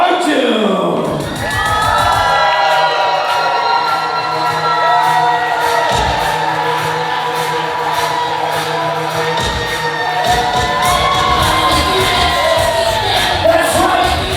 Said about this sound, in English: Make some noise for Team Arjun